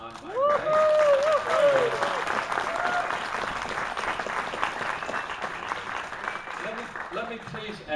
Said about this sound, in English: let me please ask the audience to refrain from applause